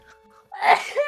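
One sharp, close sneeze bursts out after a brief quiet moment during a tabletop role-playing game session.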